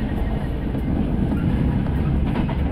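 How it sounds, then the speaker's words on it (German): Steady rattling and rumbling of a moving train carriage in the horror video game Reveil, a continuous dense clatter filling the scene at a constant level with no voices. "Das ist der Zug, der klappert."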